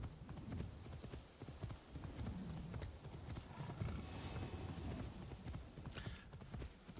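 Faint rhythmic hoofbeats clop steadily along as a horse moves at a trot in a video game, quiet and continuous with a soft background hiss.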